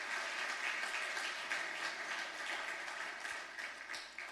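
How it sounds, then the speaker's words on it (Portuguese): A church congregation at a 50th anniversary celebration service applauds, a broad wash of clapping heard at moderate distance, steady and then easing slightly toward the end. "Você pode aplaudir o Senhor bem forte?"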